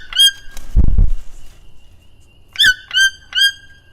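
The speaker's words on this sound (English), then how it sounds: "You're a loud bird." A toucan gives loud, sharp croaking calls, one near the start and three more spaced across the last two seconds, with a brief low thump in between and quiet pauses.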